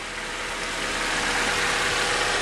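A warmed-up car engine idles steadily and close by, a continuous broad rumble that holds level without revving and with no talk over it.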